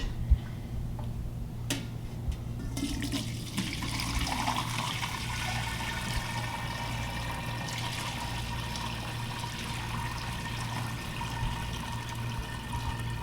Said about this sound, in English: now I'm going to carefully pour this, hoping not to splash.